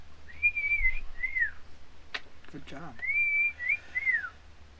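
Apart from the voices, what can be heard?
person whistling a tune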